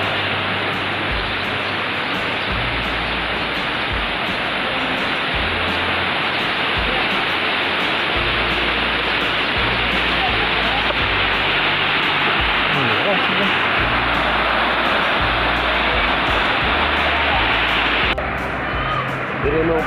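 Floodwater rushes steadily after a typhoon near a broken mini dam, a loud, continuous broadband roar that fills the whole stretch without a break.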